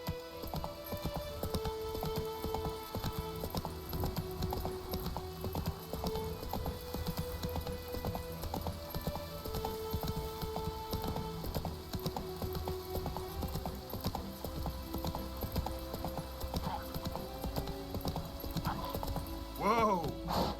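In The Witcher 3 a horse's hooves clip-clop in a quick, steady gallop rhythm throughout, fairly even in level, with a brief whinny-like burst near the end.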